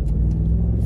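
A Ford 7.3 Godzilla V8 truck with a 10-speed transmission, towing a 12,000-pound fifth wheel, gives a brief, steady, deep engine rumble heard up close.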